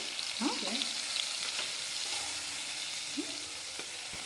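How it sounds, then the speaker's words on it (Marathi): Tomato frying with turmeric in a pan gives a steady, fairly quiet sizzle, with a few scrapes of a spoon against the pan and no voices. "हां थोडंसं आपण फ्राय करणार आहे."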